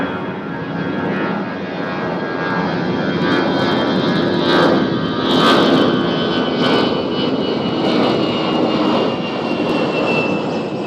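A Delta airliner bound for Detroit at Nashville International Airport, with a loud, continuous jet engine roar that swells gradually toward the middle and holds steady.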